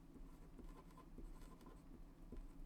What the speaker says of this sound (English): Let's write our answer right here.